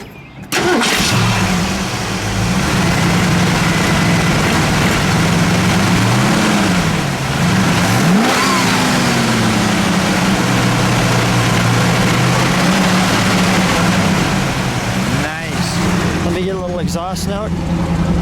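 A red 1968 Ford Mustang Shelby revs loudly and close by, its engine rumbling steadily with several rising and falling throttle swells, then settling near the end over some faint background voices.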